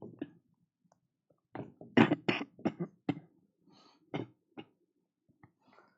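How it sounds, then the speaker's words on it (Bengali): A person coughs in a series of short, harsh bursts, clustered in the middle with a few single coughs and throat sounds before and after, close and fairly loud with quiet gaps between. "আমার হচ্ছে কাশি আসতেছিল তো অনেক"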